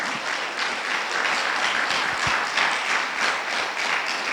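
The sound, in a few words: applause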